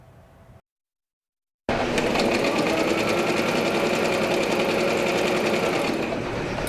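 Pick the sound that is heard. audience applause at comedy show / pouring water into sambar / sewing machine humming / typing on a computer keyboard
sewing machine humming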